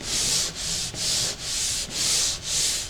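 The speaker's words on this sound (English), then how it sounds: "So most of the time with drywall joints we'll use a pole mounted sander." A pole-mounted sander rubs across a drywall joint in six even, loud scraping strokes, a rhythmic back-and-forth swish close to the listener.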